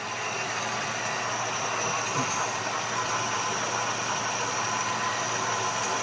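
A 1956 Chevy engine idles steadily, a constant low rumble with a faint whine on top, close and even throughout.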